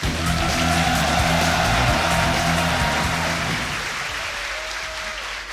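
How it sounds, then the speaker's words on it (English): A large crowd at the Yu-Gi-Oh! World Championship 2025 cheers and applauds loudly and steadily before a semi-final, the roar gradually easing off toward the end. "The crowd is excited. You can hear them all."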